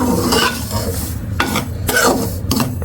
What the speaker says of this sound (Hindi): थोड़ा सा स्टोव मैंने ऊंचा किया ताकि इसको ज़रा थोड़ा सा भून लूँ